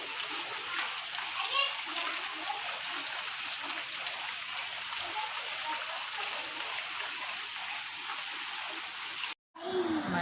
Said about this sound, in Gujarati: બહાર વરસાદ બહુ આવે છે.